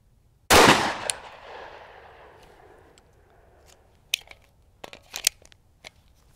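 A single loud pistol shot rings out nearby at an outdoor shooting range, its report decaying over about two seconds, followed later by a few sharp metallic clicks and handling noises.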